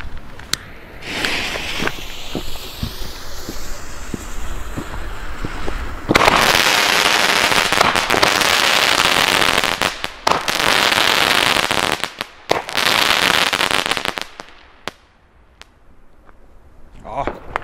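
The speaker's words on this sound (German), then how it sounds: "Und dann kommen wir zu den Zerlegerbatterien. So, die erste Feuersturm." Weco Feuersturm firework cake battery from a Lidl Bombette assortment, firing a loud rapid volley of crackling, popping shots in dense bursts with brief gaps, tapering off toward the end; a voice is heard faintly in the background.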